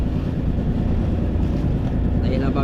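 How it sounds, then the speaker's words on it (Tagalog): Strong wind roars steadily across the microphone in a dense, low rumble that never lets up. "Nagalakas na yung hangin."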